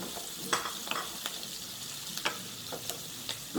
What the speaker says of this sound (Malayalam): അതിലേക്ക് ഒരു ചെറിയ ക്യാപ്സിക്കത്തിൻ്റെ പകുതി ഇട്ട് ഒന്ന് വഴറ്റാം